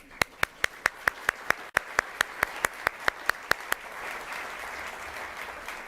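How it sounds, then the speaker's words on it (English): A quick run of evenly spaced, crisp hand claps at an occupational therapy pinning ceremony, then a softer wash of scattered applause fading under room noise. "Please give each other a round of applause."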